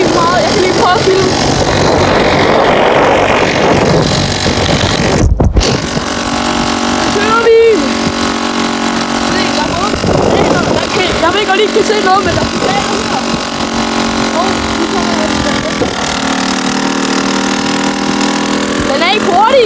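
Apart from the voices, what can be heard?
moped engine running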